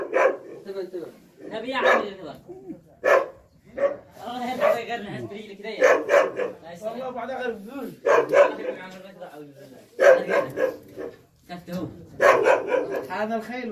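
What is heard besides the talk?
dog barking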